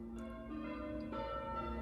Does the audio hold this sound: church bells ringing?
yes